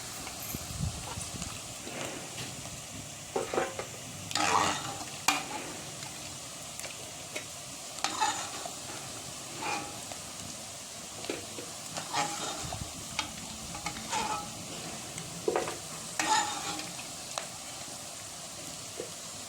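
Onion roasting in a pan for a mutton curry on a wood-fired stove gives a soft, low sizzle under intermittent clattering scrapes and knocks of a spoon against metal, fairly quiet and close.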